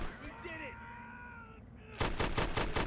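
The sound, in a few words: gunfire in the video game Army Men: Plastic Wars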